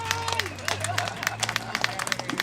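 A crowd at an outdoor street comedy and food festival in San Francisco claps in scattered, uneven bursts, mixed with crowd voices and talk close by.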